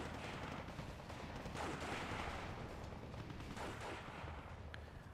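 Dense battlefield gunfire and artillery from the Steel Division 2 strategy game, a steady wash of overlapping shots and rumbling blasts filling the whole stretch with no talk.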